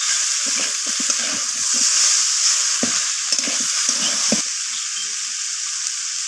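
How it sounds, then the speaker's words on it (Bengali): Vegetables frying with half a spoon of garlic paste, a bright hiss of hot oil under clusters of clattering stirring strokes against the pan, close and loud, no speech. "ভেজে নিচ্ছি সবজিগুলোর সাথে। এখানে দিয়ে দিলাম রসুন বাটা হাফ চামচের মতো।"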